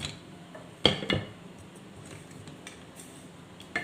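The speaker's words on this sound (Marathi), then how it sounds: "हे चमचे आहे ना इथं टेबलवर टेकवते मी" Steel spoons set down on a table, a sharp metallic clink followed by a second lighter clatter, then faint small taps and rustles, close by and without talking.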